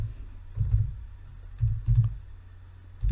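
Typing on a computer keyboard while entering a Docker command, a few short clusters of quiet key clicks separated by pauses, close and alone.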